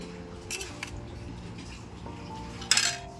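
Plates and dishes clink and knock as food is served onto them, with a few light taps and one sharper clatter near the end against a quiet background.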